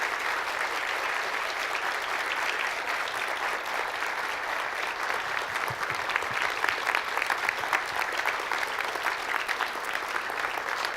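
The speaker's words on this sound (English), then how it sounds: "please applaud the work that everyone's have done" Conference attendees at the closing of the Asan Plenum 2018 applaud the staff. Steady, full applause from a sizable crowd carries on evenly without pause.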